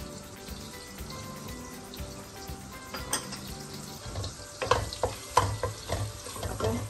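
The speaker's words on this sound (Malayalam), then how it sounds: "അപ്പൊ അതൊന്ന് ചൂടായി കഴിയുമ്പോൾ ഞാൻ ഈ ക്രഷ്ഡ് ഗാർലിക് അങ്ങോട്ട് ഇടാൻ പോവാം." Crushed garlic dropped into hot butter, starting as a low simmer and then breaking into louder, busy sizzling and crackling pops, close up with no voices.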